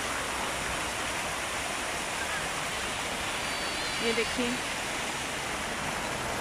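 Fountain water splashing beside the sea at Matrah Beach, Muscat, a steady broadband rush of falling water with someone speaking briefly over it partway through.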